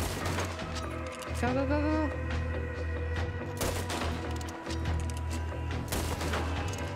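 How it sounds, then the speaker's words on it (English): Rapid gunfire bursts in Red Dead Redemption 2, repeated sharp cracks and volleys across the scene, mixed with shouting voices and game sounds. "Come on, shoot him!"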